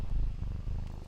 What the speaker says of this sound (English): Can you hear those purrs?